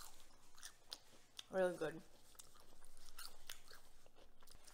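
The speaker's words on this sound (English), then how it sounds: "Listen to that crunch." Crispy chips crunching between the teeth during a burger meal, a short, close burst of crunching that rises briefly over quiet background and soft talk.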